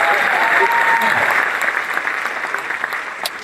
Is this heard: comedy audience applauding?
yes